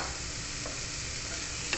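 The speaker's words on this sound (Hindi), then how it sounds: "और हम इसको अच्छे से मिक्स करेंगे।" Cooked, strained rice stirred in a frying pan for sticky rice, giving a steady sizzle with soft scraping at a moderate level and a sharper clink near the end.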